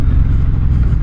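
A 2025 Suzuki M109R cruiser on factory exhaust pipes accelerates hard, a deep, loud, steady engine roar filling the whole short burst with no break or talk.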